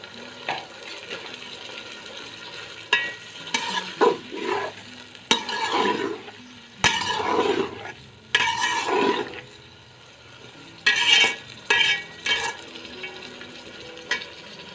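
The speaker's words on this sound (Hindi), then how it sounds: "ये साथ साथ भुनाई होती रहेगी और इसके साथ ही मैं ये लहसुन और अदरक का पेस्ट डाल" Garlic and ginger paste fries in a pot for vegetable biryani, a low sizzle broken by bursts of stirring and scraping, with no talk.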